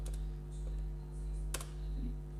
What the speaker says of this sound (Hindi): या कीबोर्ड से F12 प्रेस कीजिए